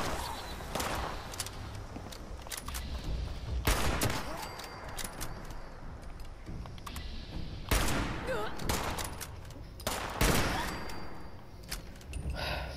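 Gunfire in Fallout 76, several sharp shots cracking at intervals amid rattling bursts, moderately distant over game ambience, with players talking quietly.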